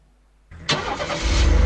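A vehicle engine in the survival game Last Island Survival starts up after a moment of near silence, catching with a sharp burst and then settling into a loud, rising rumble close by.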